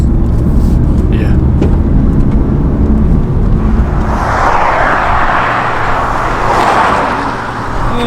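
A BMW E46 inline-six engine runs at a steady, loud idle with a constant low rumble and a smooth, even note throughout, while people talk over it.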